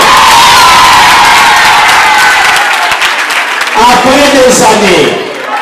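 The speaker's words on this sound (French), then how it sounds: "Manifestez-le par les acclamations." Secondary-school students at a lycée in Kamina break into loud, close applause with cheering, whoops and shouting. The roaring crowd noise is sustained and eases slightly at the end, with a voice emerging near the close.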